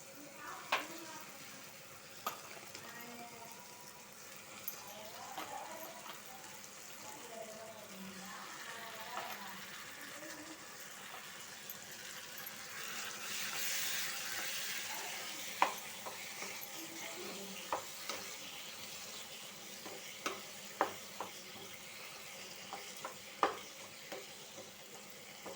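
Chicken pieces fry with tomatoes in a pan, a soft continuous sizzle with scattered clinks and scrapes from stirring, fairly quiet and close, with faint background voices.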